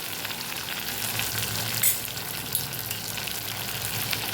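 Ground spices, including red chilli powder, coriander-cumin powder and fresh coriander, sauté in a pan for a potato curry made without onion or garlic, giving a loud, even sizzle with scattered crackles and a few stirring clicks.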